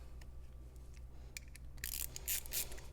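A socket wrench ratchets while bolting down a car battery bracket on a VW Passat V6, a quiet series of quick clicking pawl strokes that turn louder and denser near the end over a low hum.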